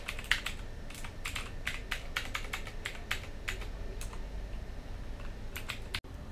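Login credentials being typed on a computer keyboard, a quiet, irregular run of crisp keystroke clicks with brief pauses, close by and alone in a still room.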